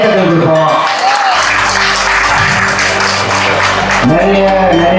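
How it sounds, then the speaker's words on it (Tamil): Applause from an audience at an Indian food festival and bikers' gathering in Johor, a loud steady wash of clapping heard together with music or tonal sounds and some voices underneath. "ஒரு பெரிய கைத்தட்டல் கொடுப்போம்."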